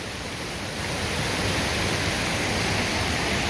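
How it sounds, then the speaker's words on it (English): Laurie's Falls, a waterfall on a tributary of the Middle Prong of the Pigeon River, roars steadily and close, a dense unbroken rush of falling water with no voices. "Laurie's Falls, everyone."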